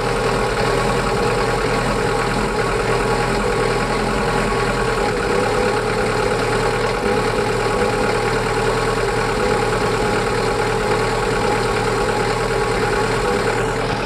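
A camper van engine idles steadily while warming up, a constant low rumble with a faint knock, close and loud with no talking over it.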